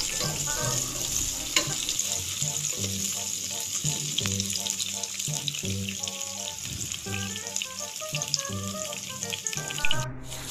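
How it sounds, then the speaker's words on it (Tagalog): Chili being sautéed in a pan before beef is added, a loud continuous sizzle and crackle with rhythmic stirring and clanks of the utensil against the pan, close up with no talk. "Ang sili, ilagay na rin. Gisa-gisa."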